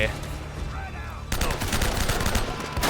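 Gunfire rings out in Uncharted: Drake's Fortune, with a rapid burst of machine-gun shots loud and close over the background, and a player talking alongside.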